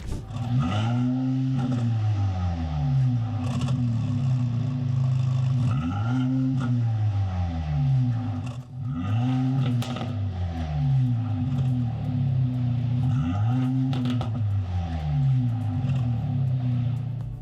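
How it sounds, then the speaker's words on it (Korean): A Mercedes-Benz SL43 AMG four-cylinder revs repeatedly in Sport and Sport Plus modes, its exhaust rising and falling in about five loud, close blips with a steady idle rumble between them and no talking. "제가 직접 시동을 걸고 스포츠, 스포츠 플러스 모드 배기 사운드를 들려드리도록 하겠습니다."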